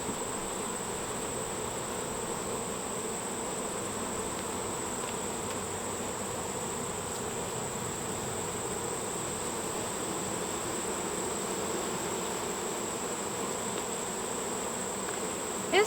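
Agitated honeybees in a new hive being inspected, a dense, steady buzzing swarm close by with a constant high whine, continuous and unbroken for the whole stretch with no talking.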